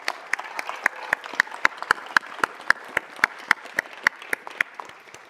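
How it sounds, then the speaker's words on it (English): A city council meeting audience claps for a high school boys basketball team, the claps sharp and fairly sparse in a steady, almost rhythmic pattern, moderately near and continuing throughout. "Can we give them a round of applause, please?"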